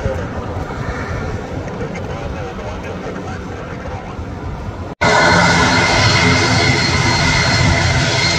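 An ATR 72-500 turboprop airliner's engine runs at an airport. A steady drone plays under talk, then jumps abruptly louder and fuller about halfway through and holds a constant roar.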